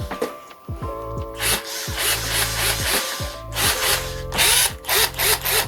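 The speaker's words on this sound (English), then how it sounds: "let you guys listen to some drilling ASMR" A power drill whines repeatedly in short bursts, spinning up and down as it bores into wood, with scraping and rubbing between runs.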